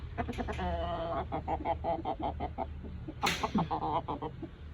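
Chickens peck and cluck nearby in a busy run of calls, with one sharper, louder squawk near the end.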